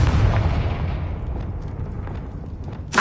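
Confringo fire-blast spell going off in Hogwarts Legacy: a deep booming blast that rumbles and fades over a few seconds, ending in a short sharp crack.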